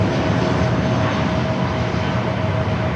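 Boeing 737 airliner taking off from runway 24 left at LAX, a loud, steady engine roar with a sustained whine, constant for the whole few seconds and no voices over it.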